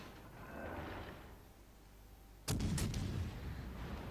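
Naval artillery salvo from a warship in the World of Warships Legends game: a low background hum, then a sudden loud booming volley of several rapid shots that fades into a rumble.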